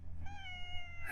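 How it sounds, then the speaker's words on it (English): A small cat gives a single drawn-out meow, soft and fairly close, with a faint pitch rise at the close; no talking over it. "a little cat."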